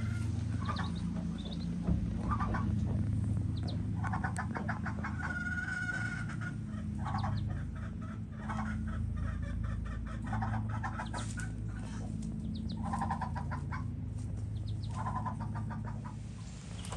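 Chickens cluck in a coop at close range, a busy overlapping chorus of short clucks and calls running continuously over a low steady background rumble.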